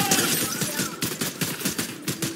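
Bursts of rapid gunfire from a Fortnite match, several quick volleys rattling in close succession at fairly loud, steady level with no voices over them.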